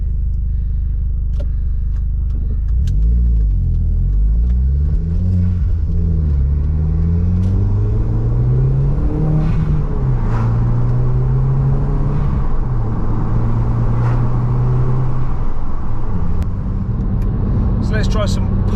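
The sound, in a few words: Audi TT car driving and braking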